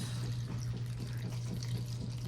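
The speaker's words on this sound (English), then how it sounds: "about a half a cup of water, basically enough to cover the bottom" Water is poured into an 8x8 baking dish to cover the bottom before baking asparagus and squash, a steady, close, moderately quiet gurgling stream lasting a couple of seconds.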